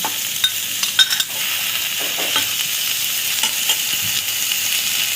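Sliced onions and green chilies cooking in two tablespoons of oil in a pan, a steady close sizzle with a few scraping stir strokes and light clinks near the start, no voices.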